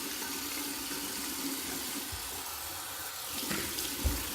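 A bathroom tap runs cold water for rinsing after a wet shave, a steady, close hiss of flowing water with a few light splashes near the end and no talking.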